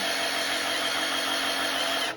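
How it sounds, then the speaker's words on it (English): A power drill whines continuously at high speed, its motor buzzing hard and steady under strain while driving against about 60 psi, then cutting off abruptly at the end. "You can see how my drill is straining."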